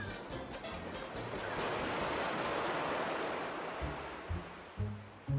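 Ocean waves and surf: a broad, continuous wash of water swelling and rushing, with a few low thuds of breaking water near the end.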